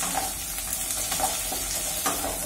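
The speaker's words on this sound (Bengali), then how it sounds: "বড়িগুলোকে দিয়ে দেওয়ার পরে এটাকে খুব ভালো করে আমরা একটু লালচে করে ভেজে নেব" Lentil dumplings (bori) fry in hot mustard oil with a steady, close sizzle, broken by soft scraping as a utensil stirs them around the pan.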